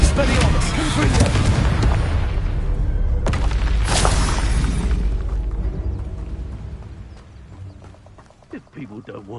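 Spell blasts and explosions in Hogwarts Legacy: heavy booming bursts and crackling impacts, loud and dense at first, then a sharp blast, tailing off into quieter rumbles.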